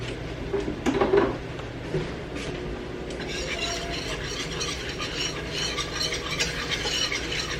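Flour stirred and cooking into browning Salisbury steak gravy in a pan, giving a steady soft scraping and faint sizzle that runs throughout, with a few louder clinks of the utensil early on.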